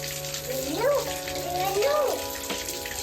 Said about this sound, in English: I turned on the water to fill up your bath